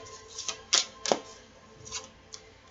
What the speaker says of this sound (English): So let's pull a couple cards on that